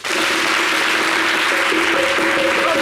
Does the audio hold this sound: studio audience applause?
yes